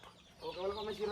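Farm chickens cluck softly at a moderate distance, a brief run of rising throaty calls in a quiet outdoor setting, with faint background murmur.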